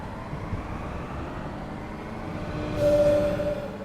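A DB BR 642 diesel multiple unit train in Train Sim World 4 on the Maintalbahn runs with a steady low rumble, and a brief tonal whine swells louder near the end.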